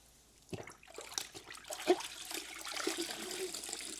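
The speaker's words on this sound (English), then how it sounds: "Then I can take this and dunk it right in my wash bucket." Water sloshes and splashes as a cloth is dunked into a car wash bucket, with a brief louder slosh and continuing wet churning and trickling afterward.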